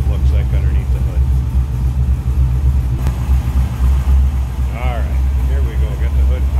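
A 1966 Chevrolet Corvette roadster's later-model 350 V8 with headers idles with a steady, deep low rumble, close and continuous throughout.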